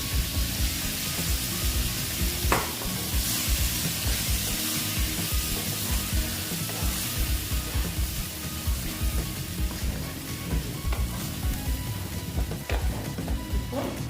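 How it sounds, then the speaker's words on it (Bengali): Dal tipped into a hot pan for a soybean dish, sizzling and frying steadily throughout with occasional stirring scrapes and clinks, close and fairly loud, with no talking. "ডালটা আমি এখানে অ্যাড করে দিলাম"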